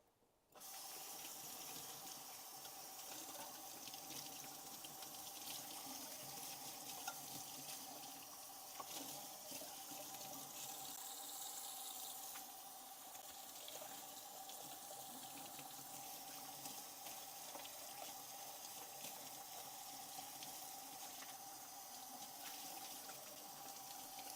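Water pours steadily into a planted terrarium, starting abruptly and running as a continuous soft trickling wash throughout, fairly quiet with no talk.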